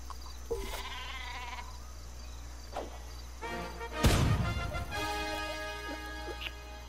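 The Super Sheep weapon in the video game Worms Battlegrounds bleats several times in quick succession, with a loud blast partway through and busy game effects around it. No voices are heard.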